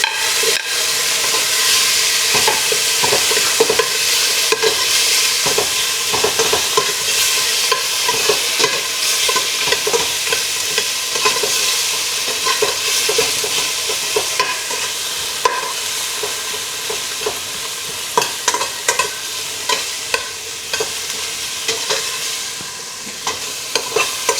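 Tomatoes fry with a steady broadband sizzle in a pan while being stirred, with repeated scraping strokes over about twenty-four seconds, close and fairly loud, with no talking.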